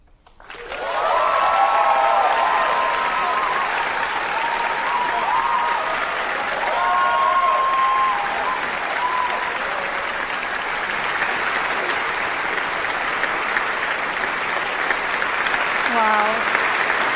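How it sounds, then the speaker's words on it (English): Sustained audience applause at the BAFTA Games Awards ceremony after a performance, a dense wash of clapping from a large crowd filling the whole stretch, with a brief voice heard under it. "Another round of applause."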